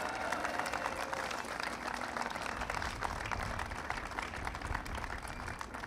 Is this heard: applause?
yes